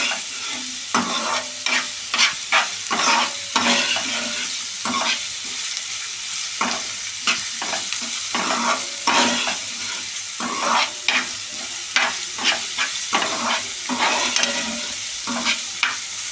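Onions sautéing in oil in a pan for methi bhaji, a steady close sizzle broken by a rhythmic series of spatula strokes scraping and stirring throughout.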